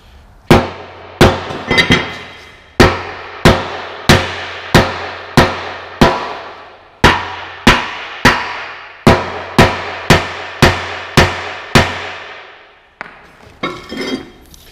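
A hammer knocks slag off the steel cutting edge of a dozer blade, about eighteen sharp, ringing metallic blows in an uneven steady rhythm, close and loud, followed by brief rustling handling noise.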